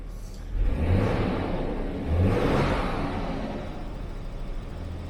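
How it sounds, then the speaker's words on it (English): An older, cheap Jaguar car engine revs twice in quick succession, each rise swelling into a deep, rumbling roar before easing back to a smooth idle. "Just sort of rev it out a little bit."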